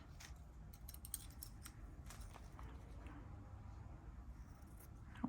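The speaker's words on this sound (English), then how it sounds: "grab one of these sheets and cut it about the size of the bag" Scissors snip through a sheet of material, trimming it to the size of a small bag, with faint, quick cuts over a low background hum.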